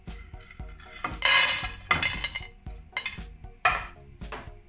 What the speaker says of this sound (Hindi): पीनट को 1 मिनट तक हम रोस्ट करेंगे, वही सेम हल्का हल्का करेंगे, मीडियम आंच पे बिल्कुल हमें करना है।